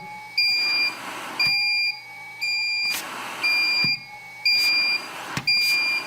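A loud electronic fall alarm from a LifeStyle RL880 window-cleaning robot beeps in a steady repeating pattern, about one high-pitched tone per second, over a low mechanical hum.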